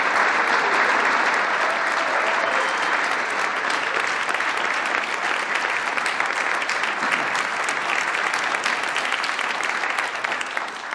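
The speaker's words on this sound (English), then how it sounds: "please join me in giving our 2023 Praemium Imperiale Laureates another round of applause" A large audience applauds the 2023 Praemium Imperiale laureates at an award celebration, with dense, steady clapping that fills the whole stretch at an even level.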